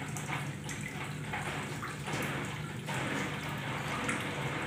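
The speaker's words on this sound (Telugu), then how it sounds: "డ్రైన్ పంప్ వాటర్ బయటకు వచ్చేస్తుంది." The drain pump of an IFB Senorita Aqua SX washing machine pushes water out during a test cycle, a steady, even rush of draining water at low level.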